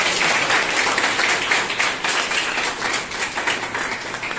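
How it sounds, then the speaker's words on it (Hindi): An audience at a police training college gathering in Sitapur claps together in a brisk, sustained round of applause, close and fairly loud, rising and falling slightly over a few seconds. "ताली बजाओ।"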